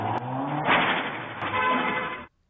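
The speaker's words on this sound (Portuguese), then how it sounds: "Uma câmera de segurança flagrou o carro passando e o barulho da batida." A car rushes past a house in Santo André on a security camera, a loud broadband roar with a harsh burst that fits a crash impact, then cuts off abruptly.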